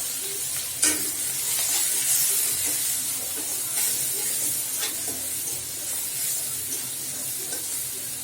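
Coriander powder, bay leaf powder and garlic paste sizzle steadily in a hot pan for a prawn curry, a continuous bright frying hiss with occasional stirring scrapes and small clinks, close and without talk.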